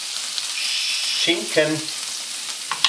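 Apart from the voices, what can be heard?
smoked tofu searing in a hot pan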